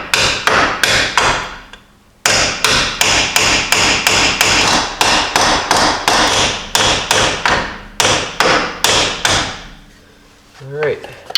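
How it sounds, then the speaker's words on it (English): A hammer delivers a long series of sharp, ringing metal blows to a Jeep Dana 30/44 unit bearing, with a brief pause near the start and a faint voice at the very end. "take the hammer and give it a couple whacks"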